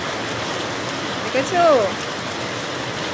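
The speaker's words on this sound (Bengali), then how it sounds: "দেখো প্রচুর বৃষ্টি হচ্ছে এখন।" Heavy rain falls as a dense, steady hiss, with a voice speaking briefly over it partway through.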